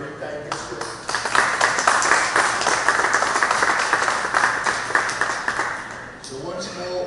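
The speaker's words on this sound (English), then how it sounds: "I would like to give you a round of applause for your very kind gesture." A round of applause from an audience at a city corporation hamper distribution during City Week, starting with a speaking voice and swelling into dense, steady clapping that fades near the end as talk resumes.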